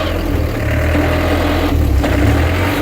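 A car engine held in fourth gear overdrive drones loudly and steadily with a low rumble, the pitch shifting slightly as it strains, with no voices over it.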